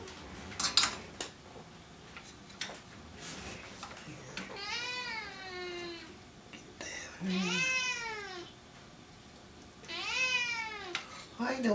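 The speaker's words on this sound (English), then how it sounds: "What you meowing about?" A cat meows three times in drawn-out, rising-and-falling calls, close and fairly loud, with a person speaking softly and some light clicking and shuffling in the room between the meows.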